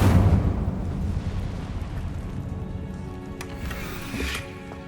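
A fire spell cast in Hogwarts Legacy bursts loudly at the start, then trails into a sustained, roaring whoosh with faint crackles that slowly fade.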